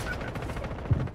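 Rapid gunshots from a video game firefight crackle in a fairly quiet, steady string of short bursts, with one slightly stronger thump near the end.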